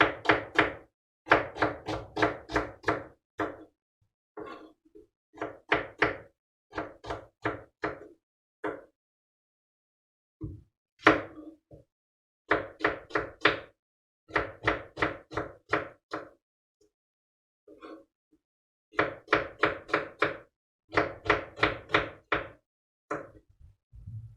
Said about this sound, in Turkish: patatesimi doğradım arkadaşlar.